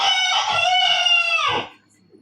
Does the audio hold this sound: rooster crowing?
yes